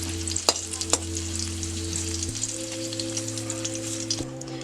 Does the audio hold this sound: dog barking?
no